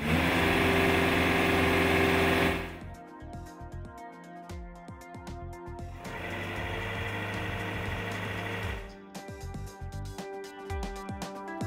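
A Linde EVO forklift truck from the 2 to 5 ton class, fitted with a variable displacement pump, runs its engine: a loud, steady roar for a couple of seconds, then quieter, uneven idling and working noise with a fluctuating level.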